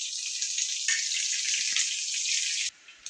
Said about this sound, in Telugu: మినపప్పు శనగపప్పు కరివేపాకు జీలకర్ర ఎండుమిర్చి వేసుకుని తాలింపు పెట్టుకోవాలి